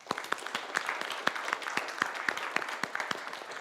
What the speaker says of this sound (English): A round of applause for Aikengump, Lee & Co, Van Balen Bellis, and Wilma Hale, please.